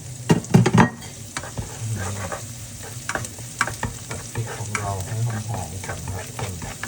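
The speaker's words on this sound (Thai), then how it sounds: "เจียวกระเทียมให้หอมๆนะครับ" Garlic frying in hot oil in a wok, with a steady sizzle and brisk clattering strokes of stirring, loudest in a burst near the start, then an even crackle throughout.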